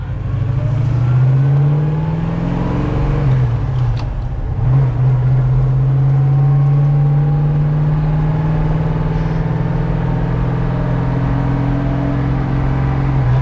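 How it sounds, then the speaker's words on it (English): A 1972 Jensen Interceptor 440 with a manual gearbox drones loudly inside the cabin, its pitch climbing, dropping briefly as gears change, then rising again steadily. "It's funny driving this car with a stick shift, isn't it?"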